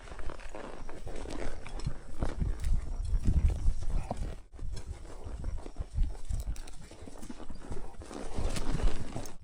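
Horse hooves clip-clop steadily on a mountain ranch trail, close and continuous across the ride, with occasional rustling from the rider and surroundings and a brief dip in the middle.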